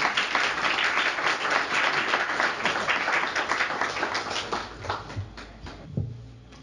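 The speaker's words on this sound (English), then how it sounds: "You don't have to applaud me" An audience at a poetry reading in a bookstore applauds, with dense, steady clapping from many hands that thins out and fades near the end.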